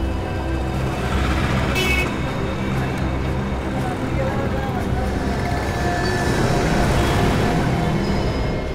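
A truck on a road at night, its rumbling engine drone steady and close with a brief hiss, while voices talk over it.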